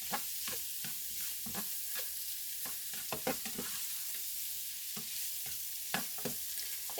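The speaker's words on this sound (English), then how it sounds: "So all I want to do is give them a quick saute and let this garlic cook a little bit." Steamed vegetables sauté with minced garlic and butter in a pan, a soft continuous sizzle broken by sharp, irregular clacks and scrapes of stirring, close and moderately loud.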